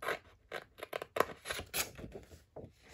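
Scissors cut paper at a slight angle for a papercraft folio, a quick series of close, crisp snips and rustles in an uneven rhythm, fairly quiet, with no talking.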